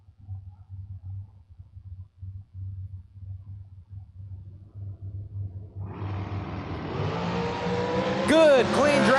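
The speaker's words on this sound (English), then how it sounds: "Good, clean drag race, 3 to a 5." Drag race cars launch down the strip at the King of the Creek event. After several seconds of low rumble, a loud engine roar builds sharply and swells, ending with a rising tire squeal.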